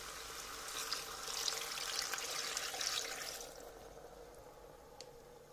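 A short, bright stream of water splashes into a pot with chicken for a Moroccan roast chicken for a few seconds, then fades to a faint trickle.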